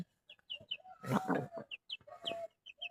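A hen clucks softly and repeatedly, with small chirps and a louder squawking burst in the middle, close by and otherwise quiet.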